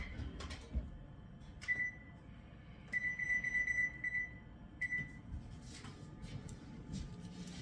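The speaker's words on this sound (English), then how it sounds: "So I'm going to go ahead and turn my oven on." An oven's control panel beeps as it is switched on and set to 325 degrees: one short tone, then a quick run of repeated beeps, then a single final beep, moderately loud and close over a quiet room hum.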